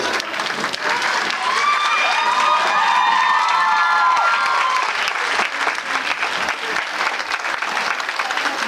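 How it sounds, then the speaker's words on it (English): A conference audience bursts into sustained applause and cheering at an international conference session, loud, dense and steady throughout, with a few whistles and shouts rising above the clapping. "extending ovation and clapping for Dr. Dipti Shukla."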